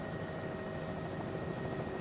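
A video game helicopter in flight gives a steady, even rotor and engine drone that fills the clip at constant low level, with no voices.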